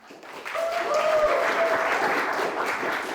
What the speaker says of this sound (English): The crowd erupts into applause, hoots, and hollers between each performance.